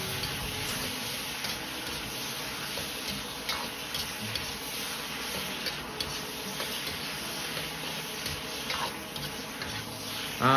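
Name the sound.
potato slices stir-fried in a wok with tomatoes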